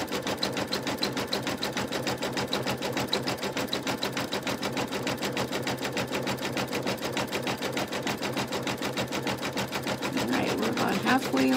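An embroidery machine stitches the outline of a honeybee coaster, a steady rapid needle rattle running evenly throughout and growing slightly louder near the end.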